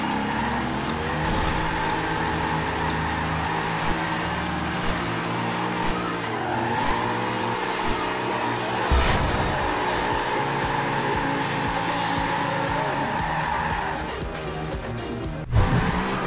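A Nissan 370Z drifts in Forza Horizon 2, its engine droning and rising as the tires squeal and skid through long slides, loud and continuous with a few bumps, and no voices.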